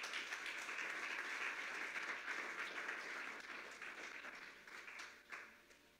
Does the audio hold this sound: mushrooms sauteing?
no